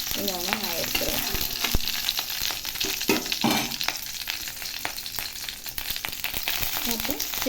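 Dried red chilies crackle and sizzle in hot oil as tempering for rasam, a continuous close frying hiss with occasional stirring clicks and faint background voice.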